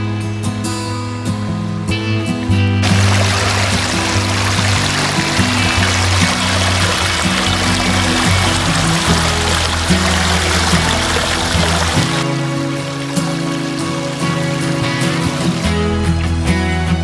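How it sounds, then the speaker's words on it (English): Water trickles and flows down through muddy ground, a loud and continuous rushing wash that holds steady for the whole stretch with no voices. "We have slight flowing. It's just trickling down here."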